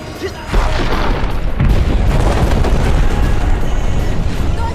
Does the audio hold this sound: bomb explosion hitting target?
yes